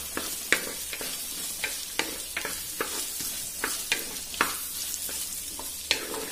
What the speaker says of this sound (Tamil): இப்ப எல்லாத்தையும் நல்லா நம்ம வதக்கிக்கலாம்